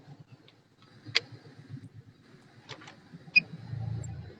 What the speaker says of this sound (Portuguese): O carro não morreu na hora que você ligou o ar?